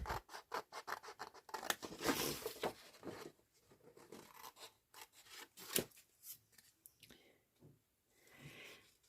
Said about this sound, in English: So I'm going to just use my scissors to cut this one out.